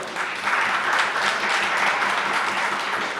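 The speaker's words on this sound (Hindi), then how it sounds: "तालियां कमजोर ना हो।" A large audience at a live Diwali Hindi poetry gathering in Kanpur applauds loudly, a thick, continuous wash of clapping hands that swells slightly and stays strong to the end, with no speech over it.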